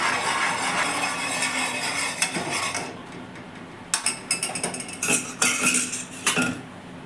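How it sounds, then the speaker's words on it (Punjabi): A spoon stirs a thickening milk and cornflour mixture in a metal pan for homemade ice cream, a close, continuous scraping at first, then irregular clinks and knocks of the spoon against the pan, with no voices. "ਬਸ ਇਹਨੂੰ ਨਾਲ ਦੀ ਨਾਲ ਚਲਾਉਂਦੇ ਰਹਿਣਾ ਹੈ"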